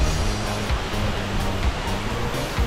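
Small waterfall at Curug Lawe in Kalisidi, water trickling gently down from a cliff crevice, heard as a steady, broad rushing hiss that holds even throughout with no voices.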